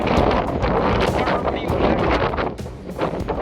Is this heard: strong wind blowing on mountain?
yes